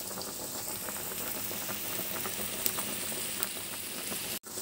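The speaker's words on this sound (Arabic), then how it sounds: "البصله بتاعتنا هي ابتدت بقى ايه تتبل معانا" Chopped onion softens in a pan for a meat and béchamel macaroni bake, a continuous bubbling sizzle heard close and steady with a brief dropout near the end, no voices.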